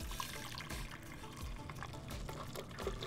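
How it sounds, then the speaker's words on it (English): Boiling water pours steadily from a kettle onto matcha powder in a cup, a continuous soft splashing and trickling stream, close and alone without talk. "Now I'm gonna pour the boiling water directly."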